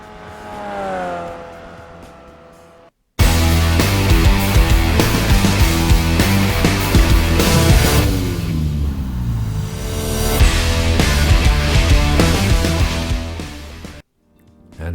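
A Pontiac Solstice with a 2.4 litre, 177 horsepower engine roars in the iRacing sim, revving hard through the gears for about ten seconds after a short quiet lead-in, with a faint tire squeal before cutting out.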